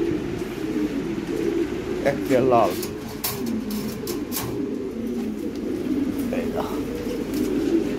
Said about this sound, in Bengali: এটার মধ্যে এই কবুতর শান্ত আছে।